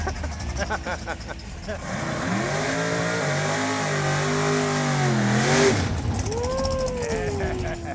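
A 2006 Ford GT revs hard at a drag strip, its engine note climbing and falling in loud, sustained sweeps with a strong harmonic roar, while commentators talk over it.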